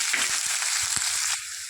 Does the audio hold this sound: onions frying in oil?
yes